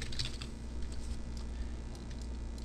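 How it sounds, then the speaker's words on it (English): Demo text being typed on a computer keyboard, quiet rapid key clicks over a low steady hum, no talking. "I'm going to type in some demo text here"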